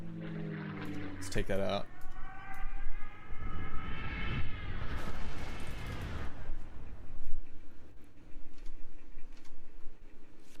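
A dive bomber sound effect in the card game Kards roars and swells midway through, with a descending engine whine, while someone speaks briefly over it.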